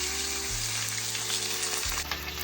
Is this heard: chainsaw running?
no